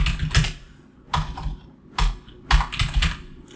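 Someone types on a computer keyboard while working in MS Word, with close, crisp keystrokes in several quick bursts separated by short pauses.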